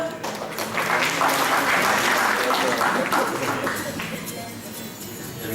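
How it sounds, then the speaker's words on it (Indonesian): A seminar audience at a university event claps loudly and steadily for about five seconds, with a few voices mixed into the applause. "tepuk tangan dong."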